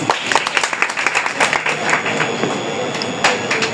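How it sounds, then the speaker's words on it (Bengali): An audience claps in applause for a man at a volunteer gathering, a dense patter of many hands that swells and fades over a few seconds with faint crowd noise beneath. "ভাইয়ের জন্য একটা জোড়া হাততালি হবে"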